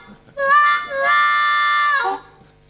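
Harmonica blowing a sustained two-tone chord in imitation of a steam locomotive whistle, one long wailing blast with a bent, sliding finish, loud and alone with no talking.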